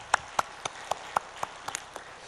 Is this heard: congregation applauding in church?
yes